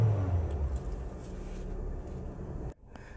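A Honda City car engine revs as a low, steady rumble for nearly three seconds, then drops off abruptly into faint background quiet.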